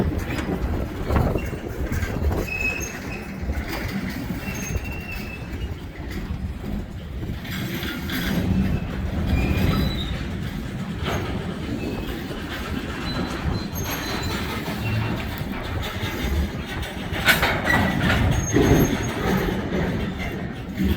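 A long Canadian National freight train rolls past at Green Bay, with a continuous rumble of wheels and cars, rhythmic clickety-clack and occasional squeals, loud and near throughout.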